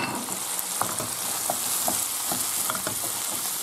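Prawns and seafood sizzling and crackling in a hot pan just after a splash of cognac, a steady frying hiss with small stirring clicks, close and continuous.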